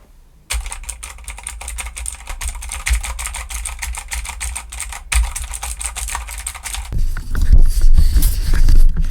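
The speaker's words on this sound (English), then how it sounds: "type on a mechanical keyboard with blue switches" Rapid, crisp clicking of a mechanical keyboard with blue switches, typed steadily and close up, with a brief pause midway and heavier, louder keystrokes toward the end.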